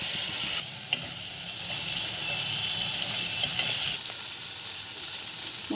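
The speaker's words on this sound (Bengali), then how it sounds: "মশলাটা ভাজা হয়ে গেছে।" A spice paste mixed with whisked yogurt and seasoned with salt and turmeric fries in a pan, giving a loud, steady close sizzle with a few faint stirring clicks and scrapes.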